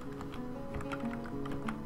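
Quiet, fast clicking of a computer keyboard being typed on, irregular keystrokes close by over a faint steady hum.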